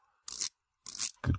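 Bezel on a fake Omega Planet Ocean Bond Edition watch turned in two short ratcheting bursts, close and crisp, followed by a quick duller knock; no one talks over it.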